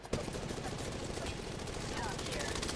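Continuous automatic weapon fire in an Apex Legends Mobile match, a steady stream of shots at moderate level with a player talking over it.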